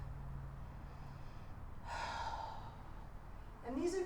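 During a yoga therapy session, a person takes a soft, audible breath followed by a slower, fuller one near the end, both quiet and close.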